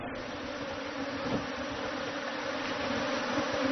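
A swarm of bees released from a hive sends a dense, continuous buzzing hum all around. It is steady and loud throughout, with no voices.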